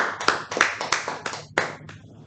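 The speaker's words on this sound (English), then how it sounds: "a huge round of applause to our table topics master once again" A small audience at a Toastmasters club meeting claps for the table topics master: a short burst of distinct, uneven hand claps, fairly close and moderately loud, fading out after about two seconds.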